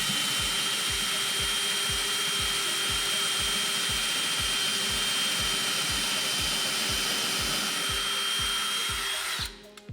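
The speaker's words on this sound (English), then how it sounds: "So I should be good to drill anywhere, ideally in the center." A power drill bores into a wall stud to mount a floating shelf, a loud, steady, close whine with a fast rhythmic ratcheting pulse underneath, cutting off abruptly at the end.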